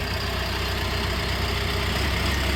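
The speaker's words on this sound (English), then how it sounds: "So here's your Cummins coming to life." Cummins diesel engine on a 2020 Rayco RG74T remote-control tracked stump grinder running loud and steady nearby, a dense continuous rumble and roar without any clear start-up surge or change in pitch.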